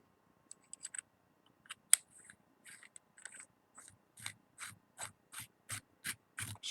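Base being screwed back onto a Kamry X6 Plus vape kit, heard as a close, quiet series of ratcheting clicks and short threaded scrapes that grow more regular toward the end, with no voices.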